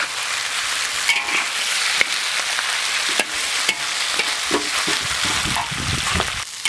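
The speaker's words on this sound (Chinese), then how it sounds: "一把的花椒一起炒，这要烤久一点" Sichuan peppercorns stir-fried in a pan sizzle and crackle steadily, with occasional sharp scrapes and clinks of the spatula against the pan, close and fairly loud.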